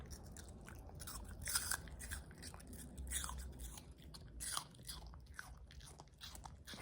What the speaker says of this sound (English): Let me see if I can bite her off a piece of apple